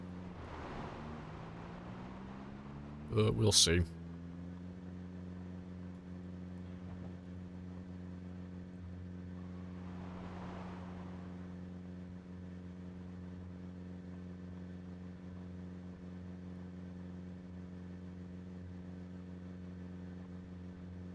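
Car engine in a video game idling with a steady low drone throughout, a brief revving rise at the start and a short louder clank, with a few quiet spoken words.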